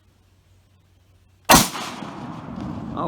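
A single sharp rifle shot cracks out of near silence and is followed at once by the ring of a struck steel target, with a rolling echo that trails off over the next second and a half. No one speaks.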